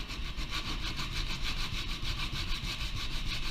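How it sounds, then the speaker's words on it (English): A block of wood is hand-sanded at an angle with good pressure, making a steady rasping scrub in quick regular back-and-forth strokes, close and continuous, with no talk. "I'm going to sand at an angle."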